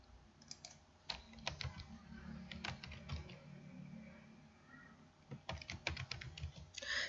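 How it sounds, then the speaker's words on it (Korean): Keys clatter on a computer keyboard while a shape is labelled in a presentation slide, irregular bursts of close, quiet taps with short pauses, and no voices. "엔터키 눌러서 두 줄로 입력해 주시고요."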